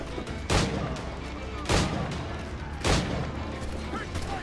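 Gunfire during a ship battle in Assassin's Creed IV Black Flag, three loud booming shots spaced about a second apart over a rumbling battle background.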